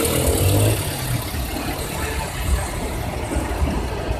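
A minibus engine running in busy Giza traffic in Egypt, with a steady mid-range motor drone and road noise under a dense city din, no voices.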